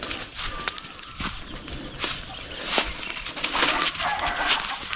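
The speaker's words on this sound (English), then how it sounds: "there's a chicken, and I can hear chicks as well." A chicken clucking and chicks peeping amid rustling and scuffling outdoors, with brief sharp calls scattered through the clip.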